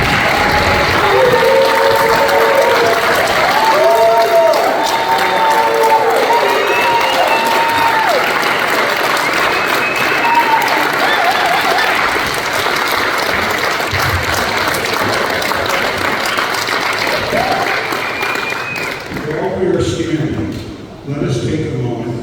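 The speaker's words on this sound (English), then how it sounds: "So please stand and join me in a heartfelt round of applause to acknowledge the guest of" A standing audience at a retirement party gives a guest of honor a long, loud round of applause with some cheering, while voices talk over it, before the clapping thins out at the end.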